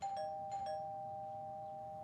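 A doorbell chimes twice in quick succession, then one bright tone lingers and fades slowly; soft and somewhat distant in a quiet room with no talking.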